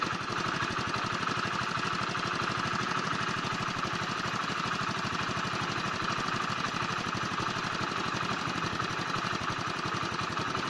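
A Hero 100cc motorcycle engine idles steadily and loudly up close during carburetor tuning, a constant even putter with no clear change in speed and no speech.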